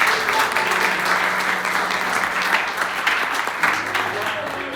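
Congregational applause at a Pentecostal church sermon, a steady wash of clapping from a crowd that carries on for several seconds, with voices and a low hum mixed in underneath.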